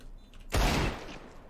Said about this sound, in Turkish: Bir tane silah vurdu.